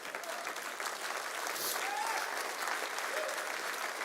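Audience at a church service clapping steadily, a continuous dense wash of applause heard at a moderate distance with faint voices mixed in.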